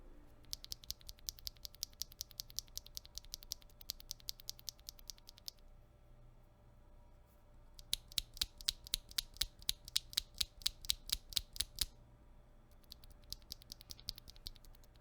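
Steady bursts of typing on a mechanical keyboard with linear switches and aluminum keycaps, close and crisp, in three runs separated by short pauses, with no talking.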